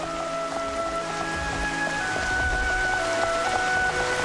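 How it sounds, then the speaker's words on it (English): Steady night rainfall in the Xenoblade Chronicles: Future Connected city of Alcamoth hisses continuously over sustained game music tones, with no talking. "How Alchemoth looks at rain in the middle of the night"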